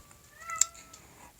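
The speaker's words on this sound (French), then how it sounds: "Désolé pour le chat qui chiale en arrière" A female cat in heat gives a short, thin, wavering meow in the background of a room, faint and brief, followed by a soft noise at the end.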